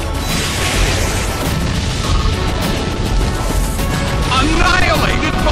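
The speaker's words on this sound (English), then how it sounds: "Annihilated by explosion!" A dense, roaring blast of explosion-style effects from an Explosion attack in the Pokémon Battle Revolution game, a loud wall of booming noise that runs the full length without letup, with a rising crackle toward the end.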